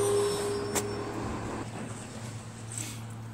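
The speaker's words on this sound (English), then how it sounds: "Garbage truck's here, hold on." Garbage truck idling nearby, a steady low engine drone with a faint clank or two, heard alone without talk.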